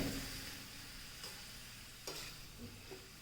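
Bitter gourd slices frying in hot oil in an iron pan, a steady soft sizzle with a few brief stirring scrapes and clicks, close and fairly quiet.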